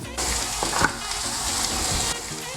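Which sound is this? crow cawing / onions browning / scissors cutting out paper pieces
onions browning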